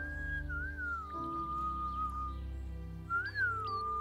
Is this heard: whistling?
yes